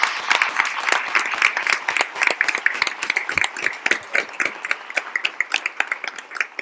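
Dense, sustained audience applause at a congress session, many hands clapping continuously and evenly without pause, no speech over it.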